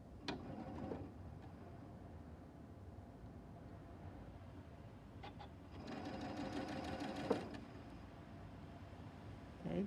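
Sewing machine stitching a quilt block, running in steady bursts with a long continuous run near the end, close and fairly loud with no talk over it.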